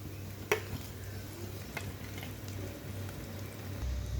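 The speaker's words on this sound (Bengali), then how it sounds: "তেলটা গরম হয়ে গেছে, এবার আমি দিয়ে দেবো পিঠেগুলো।" Bengali pitha cakes are lowered into hot oil, setting off a soft, steady sizzle with a sharp clink near the start and a few faint ticks, quiet and free of talk.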